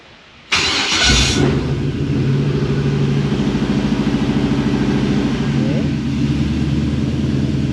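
A car engine cranks and catches, then settles into a steady, loud, slightly uneven idle that runs without a break to the end.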